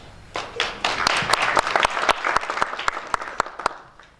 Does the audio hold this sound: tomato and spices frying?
no